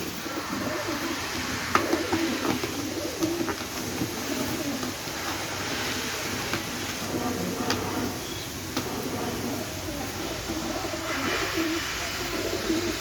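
Pigeons coo steadily in a loft over a constant background hiss, with occasional faint rustles and clicks from the birds.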